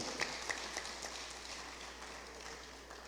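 A church congregation applauds during a service, scattered claps forming a soft, distant round of applause that fades after a few seconds.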